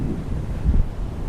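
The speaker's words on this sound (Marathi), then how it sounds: "वारा बघा कसला सुटलाय आणि हा समुद्र बघा किती खवळलाय" Strong wind blasts across a stormy, rough-sea beach at Achara, rumbling hard and close against the microphone in a short, steady roar with no talking.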